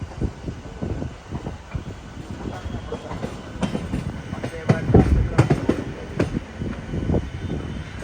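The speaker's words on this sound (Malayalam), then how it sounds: "ട്രെയിൻ ഇതാ കോയമ്പത്തൂർ ജംഗ്ഷൻ റെയിൽവേ സ്റ്റേഷനിലേക്ക് എത്തിക്കൊണ്ടിരിക്കുകയാണ്" A train rolls into Coimbatore Junction railway station with a rhythmic clickety-clack of wheels over rail joints, a rumbling roll and sharp metallic knocks that grow louder toward the middle.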